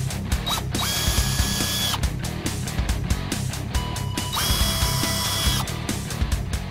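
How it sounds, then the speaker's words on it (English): A power drill opens holes to a 1/4 inch diameter while fitting a Roush side skirt and rear splitter on a 2010-2014 Mustang, running in steady whirring bursts with short pauses between holes, close and loud over a constant low rumble. "Now we're going to open our holes up to the proper 1/4 inch diameter."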